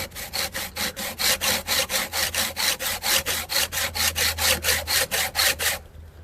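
Saw blade cutting a carbon bicycle steerer tube in steady back-and-forth strokes, about two dozen rhythmic rasping passes close up, ending abruptly near the end; no talk.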